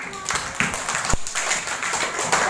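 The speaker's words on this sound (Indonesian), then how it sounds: "Tepuk tangan." Classroom of students clapping briefly together after a group finishes its presentation, a short burst of scattered hand claps at close range with faint chatter in the room.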